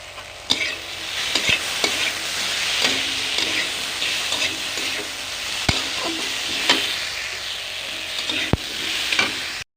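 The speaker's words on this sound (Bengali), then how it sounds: "এই দেখুন আমার কষানোটা কমপ্লিট।" Spices and turmeric sauté in a pan for a drumstick curry with a steady close sizzle, broken by the regular scrape and knock of a spatula stirring.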